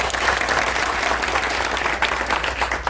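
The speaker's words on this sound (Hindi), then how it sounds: "एक बार जोरदार ताली से इनका स्वागत।" A crowd at a Jan Suraaj political gathering in Bihar applauds loudly to welcome a speaker, with steady, dense clapping that holds evenly throughout.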